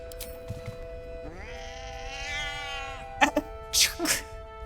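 Cat meowing in Baldur's Gate 3: a single drawn-out, rising then sustained meow, fairly clear over steady background game music, followed by a few short sharper vocal sounds.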